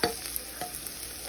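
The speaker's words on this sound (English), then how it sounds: "So just keep moving them around in the pan until they get soft. And your garlic will start to brown" Garlic frying over low to medium heat in a T-Fal pan while being stirred, a steady close sizzle broken by soft scraping strokes of the utensil, with no one talking.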